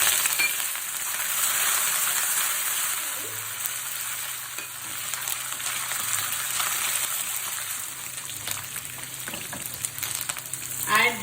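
Red chilies and curry leaves fry in hot oil in a pan for a street-food jackfruit dish, giving a continuous loud crackling sizzle with occasional stirring scrapes and soft clinks.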